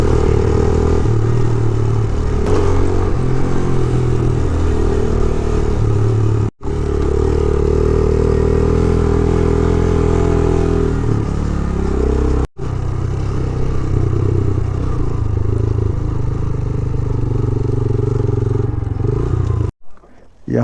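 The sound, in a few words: motorcycle engine riding in Upper Neelum valley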